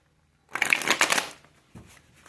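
A deck of tarot cards riffled and shuffled up close, a dense crisp flutter lasting under a second, followed by a softer tap and rustle.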